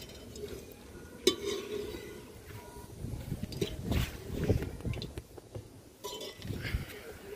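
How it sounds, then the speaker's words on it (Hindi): Cumin seeds roast in hot mustard oil in a rural Punjabi kitchen, giving a soft sizzle with scattered clinks and stirring scrapes from a ladle, close by and moderately loud throughout. "जीरा पा के इहनूं आपां भुनणा जी।"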